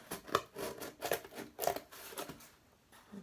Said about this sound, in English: So these are our craft scissors, not our fabric scissors. Cut on the line going down the edge.